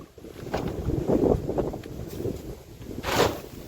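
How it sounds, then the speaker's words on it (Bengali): Wind gusts rumble and buffet outdoors in the Sundarbans, rising and falling in strength, with brief rustling bursts and no talking. "কিন্তু এই ঝোড়ো হাওয়াটা চলবে"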